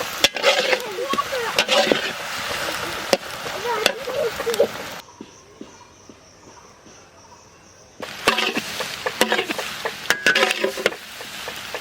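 Food fries in a pan in a village kitchen, a crackling sizzle with utensil scrapes and knocks, close and fairly loud, broken by a quieter stretch in the middle before the clatter resumes.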